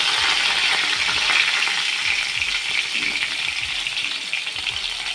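Curry leaves hit a hot tempering of mustard seeds and dried chillies in oil, giving a loud, continuous sizzle and crackle that holds steady throughout.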